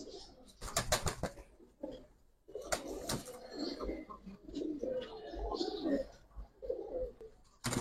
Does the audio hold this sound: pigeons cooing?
yes